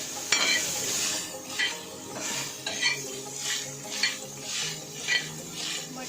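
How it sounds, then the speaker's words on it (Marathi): Soaked moth beans fry in a little oil on a flat pan, with a light sizzle under rhythmic scraping strokes of a spatula, repeating about every half second. "आता ती तव्यावरती थोडं आपण फा म्हणजे थोडंसं फ्राय करून घेऊया तेलामध्ये"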